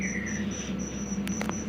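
Crickets kept as bird feed chirp steadily in a pulsing high trill, close and continuous, over a low background hum with a few brief clicks near the end.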